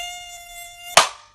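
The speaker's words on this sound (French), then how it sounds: "C'est bon, j'ai tué le moustique." Mosquito whine buzzing close and steady for about a second, then cut off by a sudden loud slap as it is killed, the noise decaying quickly.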